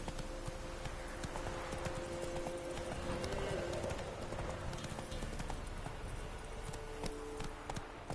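Horse hooves clip-clop at a steady trotting rhythm in the video game The Witcher 3, faint and continuous with a low wind-like background.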